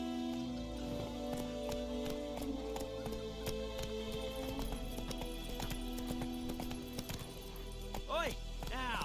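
Roach, a horse in The Witcher 3, galloping: steady, rapid clip-clop hoofbeats close by under a continuous game music bed, with a short vocal sound near the end.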